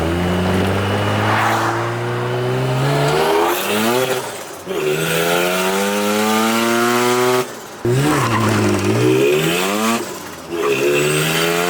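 A rotary-engined Mazda RX-7 with a 9174 EFR turbo accelerates hard, its loud engine note climbing through rising sweeps, broken by brief gear-change dips, with turbo whine over a close, raw exhaust.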